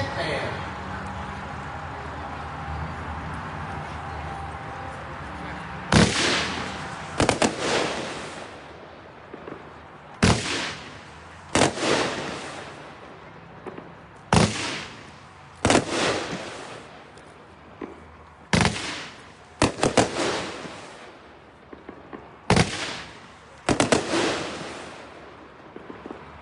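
Hitman, a 24-shot firework cake, fires at an outdoor demo shoot: six or seven loud, sharp bursts, each with a crackling tail, come at irregular intervals under steady background crowd noise.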